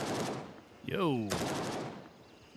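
Bursts of automatic gunfire crackle in the tactical shooter Gray Zone Warfare, fairly distant shots in quick strings, with a player's voice talking over part of it.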